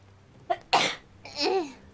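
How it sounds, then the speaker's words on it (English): A single human sneeze, a short intake followed by a sharp explosive burst at close range, then a brief voiced groan afterward. "Oh, I have to sneeze."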